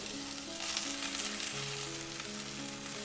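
Shrimp sizzle steadily in a hot frying pan while being cooked for shrimp fried rice, with a dense, continuous crackle that stays close and even throughout and no voices.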